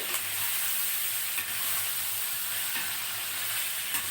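Tomatoes stirred into a cauliflower curry in a pan, a steady loud sizzle and fry hiss with scraping stir strokes running throughout, no voices.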